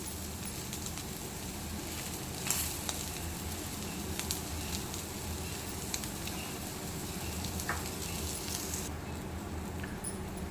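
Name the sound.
capsicum egg omelette frying in a pan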